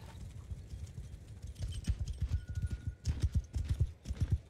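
Horses gallop in a Mount & Blade 2: Bannerlord battle, a dense stream of rapid hoofbeats that swells louder partway through and carries on steadily, with no voices.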